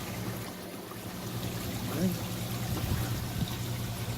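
Water pours steadily from a 2-inch outlet pipe on an aquaponics system and splashes off to the side. It is a faint, continuous trickling over a low background hum.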